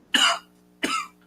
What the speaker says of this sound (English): Yeah, cough it up.